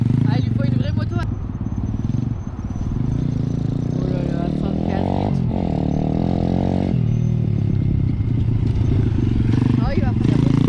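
RXF Apollo 150cc pit bike engine running and revving, a steady buzzing drone with a rising rev in the middle, close by under people talking.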